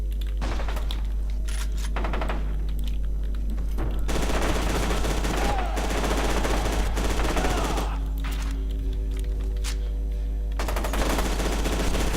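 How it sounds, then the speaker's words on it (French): Shotgun fire in the first-person shooter FEAR 2, with loud bursts of gunfire and impacts breaking over a steady low game hum and ambient soundtrack, with quieter stretches between volleys. "Une fusil à pompe traditionnelle."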